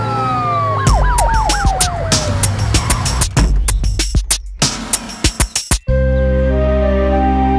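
An ambulance siren in a children's animated moral story wails with a rising and falling tone, followed by a run of sharp clicks and a steady electronic hum, loud and close with no talking.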